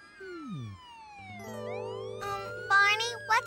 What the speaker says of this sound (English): it sounds like some kind of siren